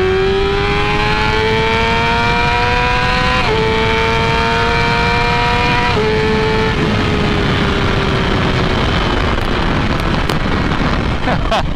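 A 2019 Yamaha R6 600cc sport bike engine revs loudly, its high whine stepping down in pitch through a few falling sweeps before fading into a rougher rumble.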